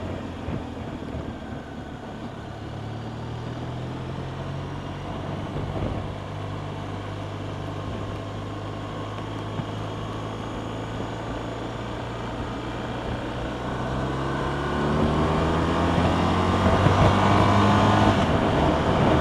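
A BMW R1200RT motorcycle cruises along a country road, its steady engine drone and wind rush holding constant, swelling a little louder toward the end.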